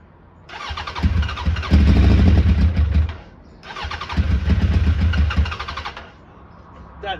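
A Suzuki Bandit 1200 motorcycle under restoration cranks and fires in two loud, close attempts, each a few seconds of rough churning engine noise before cutting out.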